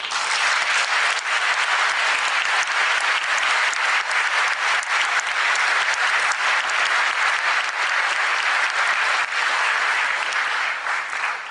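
An auditorium audience applauding after a speech at a public debate on the existence of God, with dense, loud, continuous clapping that holds steady throughout.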